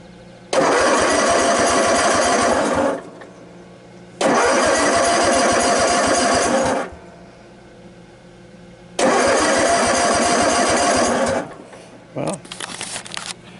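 A Cub Cadet RZT50 zero-turn mower engine, idle for six months, cranks over three times on a cold spring start in long grinding bursts without catching, separated by pauses, followed by a brief rattle.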